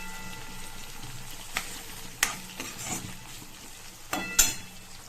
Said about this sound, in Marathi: भाजी मस्त अशी शिजली आहे तेलामध्ये